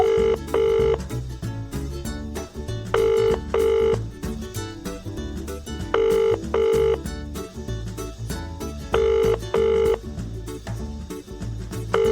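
A telephone rings in repeated double bursts at a steady rhythm, loud and close, layered over a continuous busy backing of music-like tones.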